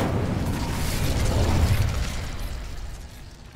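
Casting Incendio in Hogwarts Legacy gives a broad, whooshing burst of magical flame with a crackling, roaring texture. It peaks after about a second and a half, then slowly dies away.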